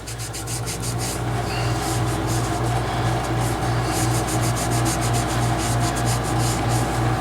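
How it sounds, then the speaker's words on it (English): A rag buffs a dyed Gerstner tool chest handle in steady, continuous rubbing strokes, a close, even scratchy swish with a rhythmic pulse and no voices. "buff this off just with a rag"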